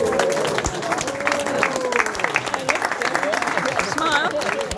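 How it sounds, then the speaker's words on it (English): Sustained applause from a parkrun crowd, steady and fairly loud, with voices and cheering mixed in throughout. "I think it would be brilliant if we could have a round of applause for John Isaacs"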